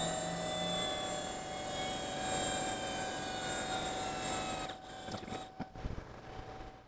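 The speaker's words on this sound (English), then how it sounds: "So that was longer than I thought it would be to rewind what is equivalent of 38 gigabytes worth of tape." LTO-8 tape drive rewinding in an HPE MicroServer G10+ setup gives a steady, quiet mechanical whir with a faint tonal whine, holding evenly for several seconds before the motor stops and a few soft clunks follow.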